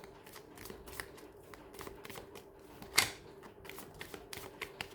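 Tarot cards are shuffled close by in a continuous papery riffle of quick flicks, with one sharper slap partway through.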